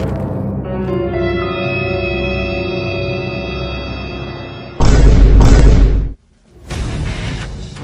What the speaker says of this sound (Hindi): यहाँ पटाखे यहाँ मत फोड़ो